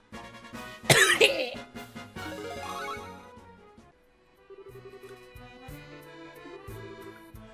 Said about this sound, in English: I want to cough